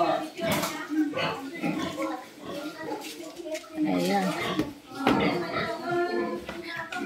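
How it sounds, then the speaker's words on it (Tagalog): Pigs grunting in a farrowing pen on a Philippine hog farm, a busy mix of close grunts and squeals overlapping with people talking nearby. "dami-dami naman ang mga baboy"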